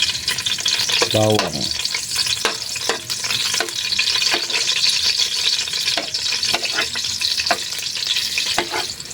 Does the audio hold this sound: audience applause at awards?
no